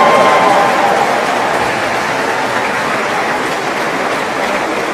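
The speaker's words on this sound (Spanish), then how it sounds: "Un aplauso para todos." A church audience applauds in a dense, sustained wash of clapping that holds steady for several seconds before easing slightly, with no voices rising above it.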